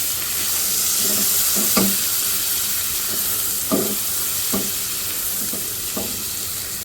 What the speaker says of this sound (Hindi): ठीक है, इसको भी हम इसके साथ थोड़ा सा फ्राई करेंगे।